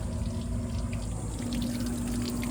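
Old water draining out of the hull of a 17-foot-5 Bay Craft skiff, a steady continuous rush and trickle of flowing water close by, with an even level throughout and no talking.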